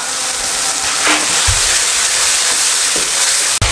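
Spice masala for brain masala fry sizzling steadily in a hot pan, a loud continuous hiss with a few soft stirring scrapes and one sharp knock near the end.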